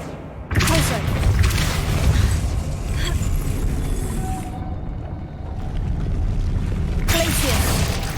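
A Depulso spell cast in a Harry Potter video game bursts out with a loud, sudden blast, followed by a rumbling, thumping roar that fades before a second sharp burst near the end.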